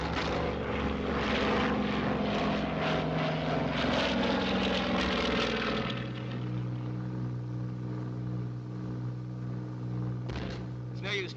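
Propeller aircraft engines roar during a steep dive in a 1942 British war film, a loud sustained drone with wavering pitch that drops to a steadier, thinner hum partway through.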